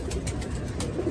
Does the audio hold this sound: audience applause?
no